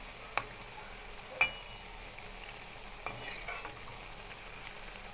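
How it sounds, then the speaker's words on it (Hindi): Potato bites frying in hot oil and turned over with a spoon: a steady soft sizzle with a few sharp clicks of the spoon against the pan, close and alone with no voices. "तो हम पलट पलट के इन्हें अच्छे से सेक लेते हैं फ्रेंड।"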